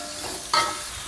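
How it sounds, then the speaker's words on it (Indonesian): A spice paste for chicken kesrut is stir-fried with tomato and torch ginger in a pan, giving a soft continuous sizzle with one sharper scrape of the stirring utensil midway, and no talking. "Bumbu ayam kesrut sudah dihaluskan teman-teman, kita tumis-tumis sampai harum."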